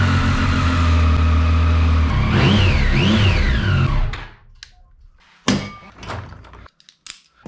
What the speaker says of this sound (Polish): najpierw odpalamy motocykl, żeby oliwa złapała temperaturkę